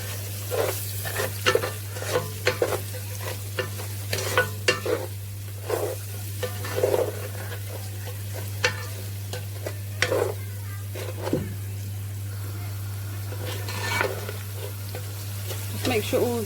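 Spices, curry powder, garam masala and garlic ginger paste, are stirred into onions in a frying pan, giving repeated close scraping and stirring strokes over a steady low sizzle and hum.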